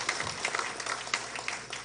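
Audience applause at a forum on water problems, a steady patter of many hands clapping at moderate volume that fills the short moment alone.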